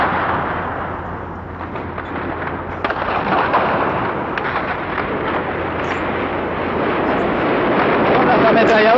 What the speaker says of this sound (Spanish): Son las ametralladoras del tanque.